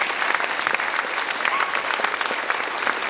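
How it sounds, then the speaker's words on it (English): An audience at a school 6th grade and jazz band spring concert claps in sustained, dense applause that carries evenly from start to finish. "so big hand for her helping out as well."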